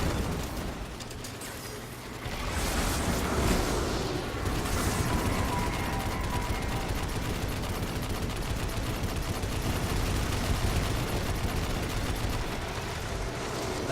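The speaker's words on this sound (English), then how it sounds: "All you hear is all the machine guns' fucking sounds like, Jesus." Dense, continuous machine gun fire from several weapons in a Destiny 2 bot fight, loud and unbroken for the whole stretch, with overlapping bursts and impacts and no speech.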